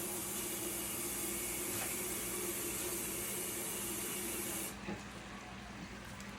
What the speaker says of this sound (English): Just gonna add a little bit of water to that.